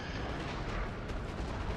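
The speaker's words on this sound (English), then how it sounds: "these howitzers are absolutely devastating" Howitzer artillery in Napoleon Total War booms in a dense, continuous low rumble of overlapping cannon blasts, heavy and sustained throughout with no voices.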